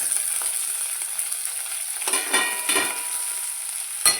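Shallots, green chillies and curry leaves frying in oil for a Kerala fish curry with mango and roasted coconut, making a bright, steady sizzle with a few louder stirring swells and a spoon knock at the end, and no voices.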